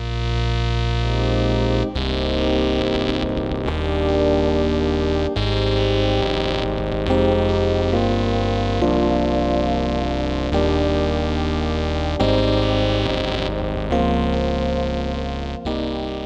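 A guitar runs through a Meris Ottobit Jr. bitcrusher filter pedal, heavily distorted and crunchy, playing sustained chords and notes with abrupt changes, buzzing and gritty throughout.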